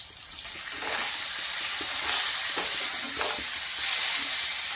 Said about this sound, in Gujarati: મસ્ત બંને બાજુથી સંતળાઈ ગયા છે